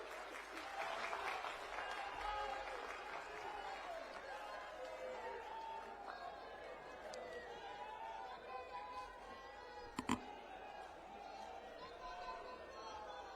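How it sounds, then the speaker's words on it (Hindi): A crowd applauds at an AAP political rally in Jind, with steady, sustained clapping and a murmur of voices spread across a large gathering, heard at a moderate distance. "जोरदार तालियों के साथ स्वागत कीजिए।"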